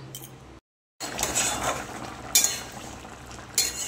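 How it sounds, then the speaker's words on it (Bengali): A pot of spicy bele river fish curry with potatoes bubbles and sizzles on the stove in a steady, close wash. After a short break, a couple of metallic clanks ring out as the lid is set on the pot. "তরকারিটা ফুটে গেছে, ঢাকনা দিয়ে দেবো"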